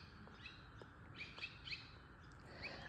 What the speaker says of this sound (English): Oh, those little birds.